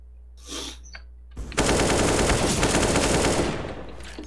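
Rapid automatic gunfire from Counter-Strike, a loud sustained burst of closely spaced shots lasting a few seconds, preceded by a couple of brief fainter sounds and fading slightly at the end.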